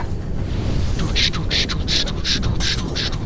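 Fireworks going off in the online game Spiral Knights, a rapid series of loud crackling bursts and pops over a steady game background, with a voice present.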